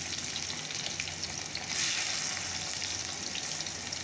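Meat and onions fry in a pan with a loud, close, continuous sizzle and light stirring scrapes throughout, no one speaking.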